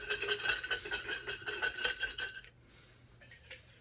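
Folded paper slips are shaken and stirred inside a glass project jar, giving a quiet, close rattling and clinking for a couple of seconds before a short rustle near the end.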